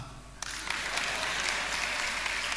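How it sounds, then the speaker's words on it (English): Audience applause breaks out at a Ghanaian comedy show, starting suddenly after a brief quiet and holding as a dense, steady wash of clapping from a large crowd. "This is where you clap."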